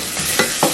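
Turmeric powder stirred into frying garlic in a pan, two quick scraping strokes over a steady sizzle, close and short, with no voices.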